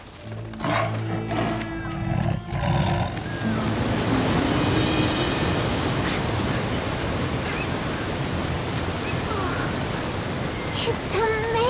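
A continuous roar of a cartoon waterfall fills the whole clip, loud and broadband, with a few brief tonal sounds over it.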